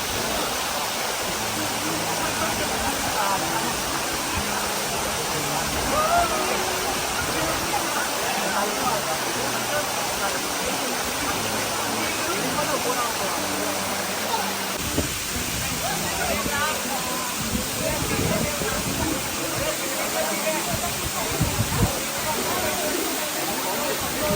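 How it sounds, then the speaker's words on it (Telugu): Continuous roar of a waterfall about 50 feet high near Araku Valley, a broad steady rushing hiss filling the whole scene, with faint voices occasionally beneath it. "ఈ వాటర్ ఫాల్స్ ఎత్తైన వాటర్ ఫాల్స్, దాదాపు 50 అడుగుల ఎత్తులో ఉంటాయి"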